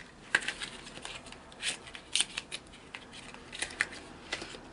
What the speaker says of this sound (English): we're going to take our scissors and just cut